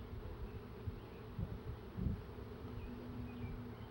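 Italian honeybees buzz around an opened hive as they grow stirred up, a steady faint droning hum with occasional louder swells, no talking.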